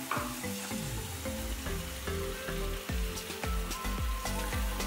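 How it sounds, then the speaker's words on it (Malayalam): Carrot halwa frying in ghee in a pan, a continuous loud sizzle with repeated scraping stirs of a spoon at an irregular rhythm, close up and alone. "നെയ്യ് ചേർത്തു. എന്നിട്ട് നന്നായിട്ടൊന്ന് മിക്സ് ചെയ്യാം."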